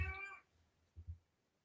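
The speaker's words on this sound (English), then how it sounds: "is that my cat or your cat?" A house cat meows once, loud and near, with a short harmonic cry at the start and a pair of faint low murmurs a moment later.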